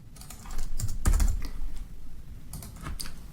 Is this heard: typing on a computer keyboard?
yes